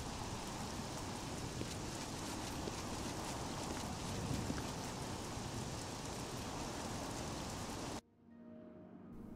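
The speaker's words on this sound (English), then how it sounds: "Rain." Rain falls steadily in the video game Oblivion, a dense even hiss of drops on surfaces that continues evenly until it cuts off abruptly near the end, leaving quiet background tones.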